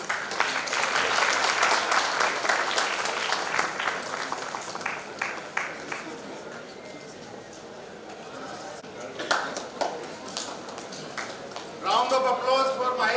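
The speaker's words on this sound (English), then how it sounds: "Round of applause for Mahesh Ahare." An audience at an award ceremony of a laboratory animal scientists' association claps in a sustained, even round of applause that slowly thins out, with a voice speaking over it near the end.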